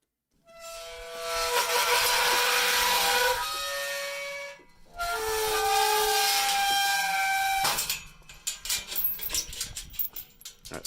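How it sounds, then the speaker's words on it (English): A gate sound effect from a sample library: two long, loud creaking, groaning swings with a brief pause between, followed by a series of clattering knocks and rattles as it settles. "So here is the sound of our gate."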